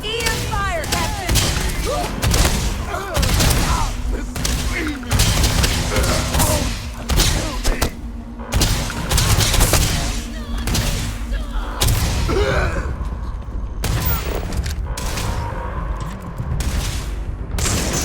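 In the video game Starfield, EM weapon fire crackles in loud, rapid bursts of booming, gunfire-like shots that come close together, with voices talking over the barrage.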